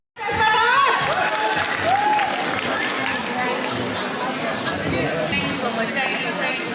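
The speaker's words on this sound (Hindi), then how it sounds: "मैं इस्तकबाल करता हूँ स्टेज पे आप सबकी भरपूर तालियों के साथ" Audience at a stage event in Faisalabad applauding and cheering as guests are welcomed, a loud, dense burst of clapping and crowd noise that holds steady for several seconds with shouts and voices mixed in.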